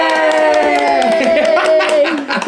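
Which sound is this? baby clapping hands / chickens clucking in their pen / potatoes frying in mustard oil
baby clapping hands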